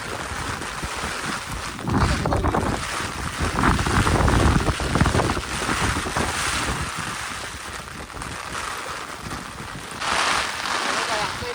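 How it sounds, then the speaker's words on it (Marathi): Heavy rain pours down suddenly during a fishing trip for katla and khavli fish, a dense steady roar with wind buffeting the microphone and swelling gusts, loud and continuous throughout. "पाऊस पण जाम आला अचानक"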